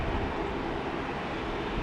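A small jet at Brisbane airport produces a broad, steady engine rumble and roar, distant but continuous, with no voices over it.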